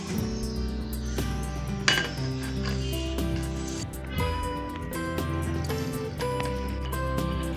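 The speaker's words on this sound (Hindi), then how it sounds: "हम इसको अच्छे से मिक्स कर लेते हैं।" Chocolate dessert ingredients are stirred into water, with a spoon clinking against the bowl in irregular taps and scrapes and a soft liquid swish underneath, fairly close, with no talking.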